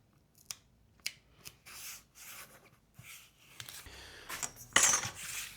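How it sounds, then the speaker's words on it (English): Tone tape goes onto the body of a bogwood Balaguer guitar being built: soft, intermittent rubbing and sticky peeling sounds, close up and quiet, building to a louder tearing scrape near the end, with no voices. "But I'm going to put a bit of tape on. This is tone tape."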